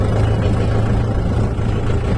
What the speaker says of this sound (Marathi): बघा कसं असं करते ट्रॅक्टर.